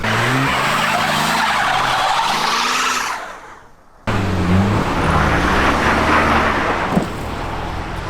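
A car skids and slides on snowy ground, engine revving with tires spinning and hissing, loud and close; the sound drops briefly before resuming just as strongly.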